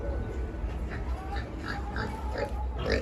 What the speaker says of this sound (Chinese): 这个也是母猪